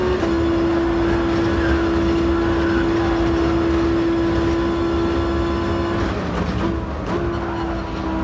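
Racing car engine of a GR1 Tomahawk in a racing video game at the Yamagiwa track, a loud steady high drone held at constant pitch, then easing off and dropping briefly before resuming near the end.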